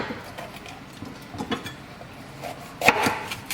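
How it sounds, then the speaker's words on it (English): A knife chopping vegetables loosely for sofrito on a wooden board, irregular thuds and taps spaced through the stretch, one louder chop near the end, no talk. "We're just loosely chopping because we're throwing it in the food processor."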